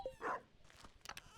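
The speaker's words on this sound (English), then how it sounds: "Shut up, dog." A dog in the farming game Stardew Valley gives a short, faint bark, followed by a few quieter soft yips in a brief, low-level burst.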